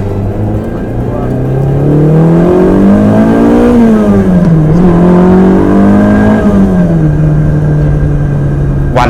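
Mid-mounted V8 of a Ferrari 308 GTB on Bangkok streets, loud and close, idling then revving up and down in two swells before settling back to a steady drone.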